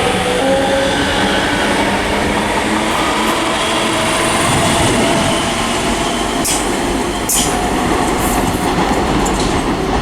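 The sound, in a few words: ScotRail train arriving and departing at Haymarket station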